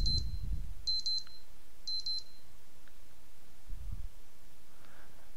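A beeper alarm goes off nearby in three short bursts of rapid high electronic beeps, separated by quiet pauses, with a few soft low thumps and no talking.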